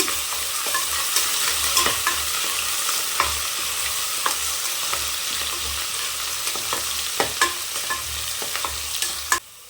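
Ginger and garlic sautéing in a pan for chicken gravy: a steady sizzling hiss throughout, broken by regular sharp scrapes and taps of a spatula being stirred, with no talking.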